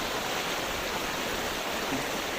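Floodwater rushing through a beach resort, a dense steady wash of flowing water, loud and constant with no talk.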